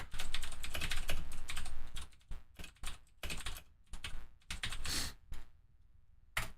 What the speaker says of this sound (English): I'm gonna type it in the chat.